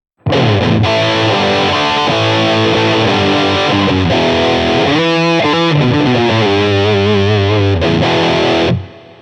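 Overdriven electric guitar played with a little drive, a boost pedal engaged and the amp's bright switch on, sounding as a continuous stream of loud distorted chords and single-note lines with sustained ringing tones, no voices.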